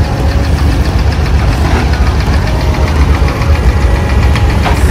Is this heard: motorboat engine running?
yes